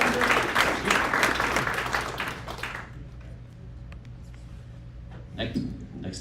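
At a motorsports team unveil, an audience applauds the operations team with a burst of dense clapping that stops after about three seconds, followed by low room murmur and talk.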